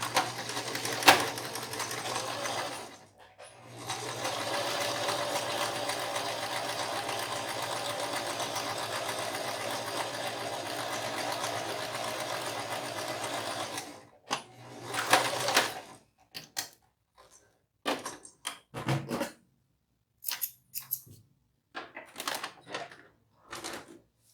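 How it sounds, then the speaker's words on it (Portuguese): A sewing machine runs in a long steady burst stitching fabric scraps for a small chocolate-holder pouch, then stops and gives several shorter start-stop runs with pauses between them. Close and fairly loud, with no talking. "Vou trazer a máquina pra cá, vamos posicionar e costurar."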